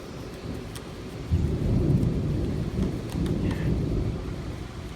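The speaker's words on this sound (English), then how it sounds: "Yep, it's storming here." Close thunderstorm with heavy rain: a dense wash of falling rain under deep rolling thunder that swells partway through and keeps rumbling, with no voices.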